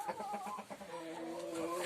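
A hen clucking in a backyard coop near rabbits, a short run of quick, fairly quiet clucks and fowl calls, close by, with no clear speech.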